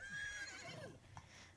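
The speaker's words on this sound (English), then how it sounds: "Oh, look at the horses." Horses neigh and whinny in The Sims 3, with a bright drawn-out call near the start and a shorter one trailing off, set against soft game ambience.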